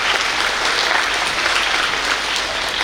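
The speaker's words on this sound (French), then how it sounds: "je vous demande d'applaudir très fort" Steady, loud applause fills an award ceremony celebrating top school students, a sustained crowd clapping with no break and no voices over it.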